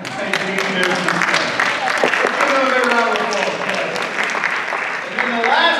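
Audience applause at a school open house celebrating graduating classes, a steady wash of clapping filling the room continuously, with voices mixed in.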